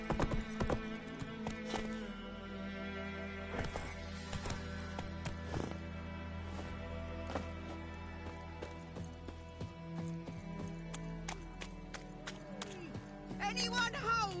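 A horse's hooves clip-clop rhythmically in The Witcher 3, a galloping beat running throughout with occasional snorts and whinnies, under game dialogue and a player talking over it.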